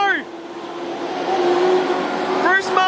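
Race cars roar down the back straight at Carina Speedway during a dirt track final, a steady loud engine drone under continuous commentary, with a car sweeping past near the end.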